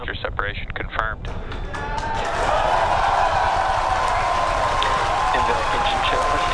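A crowd bursts into loud, sustained cheering and clapping at a Falcon Heavy rocket launch as the side boosters separate, swelling after a few seconds of talk and holding steady to the end.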